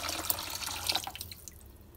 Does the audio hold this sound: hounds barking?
no